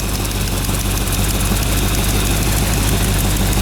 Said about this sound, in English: Like we got an exhaust leak somewhere.